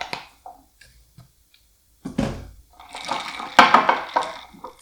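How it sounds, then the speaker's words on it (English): A spoon clinks and swirls through a glass of homemade iced vanilla chai latte with ice, a few quiet taps and then a busy run of rattling and splashing. "so now you're just gonna mix that up"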